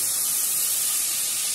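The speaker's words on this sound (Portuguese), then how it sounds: "deixar aqui refogando" Fish pieces sautéing in a pan for a fish-head pirão, giving a steady, close hiss of sizzling oil that holds even throughout without any talk.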